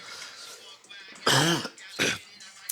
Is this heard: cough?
yes